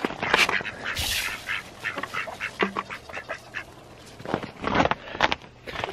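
Ducks quack repeatedly on a farm in the morning, with chickens nearby, a busy run of nasal calls at close to moderate range, with no talk over them.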